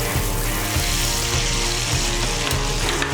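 Morel mushroom halves frying in hot olive oil, a loud continuous sizzle with occasional pops close up, with no talk.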